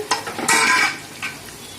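Onions hit hot oil with a sudden burst of sizzling that quickly settles into a softer crackle, with a brief scrape of a utensil.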